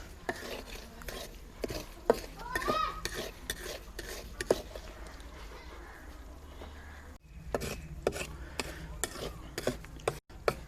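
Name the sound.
semolina roasting on low flame, spoon stirring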